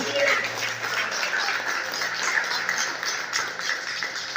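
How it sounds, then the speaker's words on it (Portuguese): A church congregation applauding during a sermon: a fairly soft, steady wash of clapping with a low hum beneath and some voices mixed in. "Aplauda ao Senhor Jesus"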